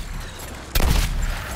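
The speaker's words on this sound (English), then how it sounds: "Firing on your target." Gunfire in the Suicide Squad: Kill the Justice League video game: a sudden loud burst of shots about halfway in, over a constant rumbling game background, then a sustained noisy tail.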